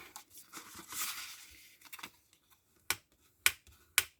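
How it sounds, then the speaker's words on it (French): A small bone folder rubs and presses along folds in paper while a gift box is made, giving soft scraping and crinkling at first, then several sharp, close creasing snaps spaced about half a second apart, faint overall with no talk. "je prends un petit plioir et je vais marquer mes plis"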